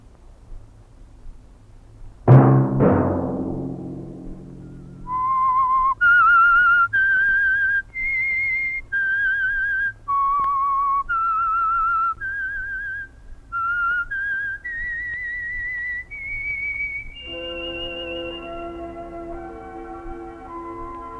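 The whistled theme tune of the radio show The Whistler, a lone eerie melody of sustained, sliding notes that rises step by step, following an opening thud and ending in a held orchestral chord.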